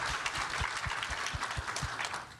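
Audience applause at a sickle cell disease health summit, a dense, fairly quiet clapping wash with a few heavier claps in front, held steady throughout.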